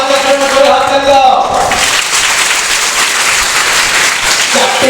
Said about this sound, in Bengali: ভালো কাজের জন্য জোরে হাততালি দাও।